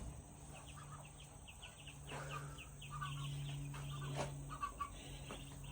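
Chickens cluck softly inside a backyard coop, a scatter of short clucks and murmurs at moderate distance over a steady background hum, with no voices.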